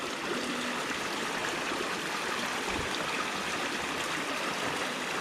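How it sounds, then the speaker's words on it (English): Water rushing fast through a drainage channel, a loud, steady broadband roar of turbulent flow with no pauses, heard up close and alone. "you can see the amount of water coming through and the speed"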